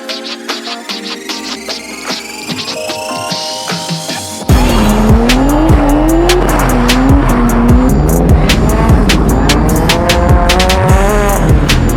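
A modified car drifts at a drift event in Malaysia, engine revving loudly with rising and falling pitch over continuous tire squeal and skidding, close and intense throughout, louder after an abrupt jump.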